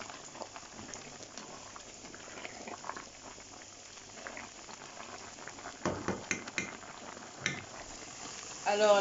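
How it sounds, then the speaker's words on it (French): Onions frying in a pan next to a pot of boiling spaghetti, a steady soft sizzle and bubbling hiss throughout, with a few louder clattering stirs near the end. "vous allez mettre vos oignons et puis attendre que les oignons soient un peu tendres"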